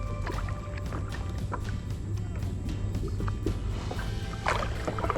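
Kayak paddling on the Chassahowitzka River in Florida, with repeated soft splashes and dripping water strokes close by over a steady outdoor background.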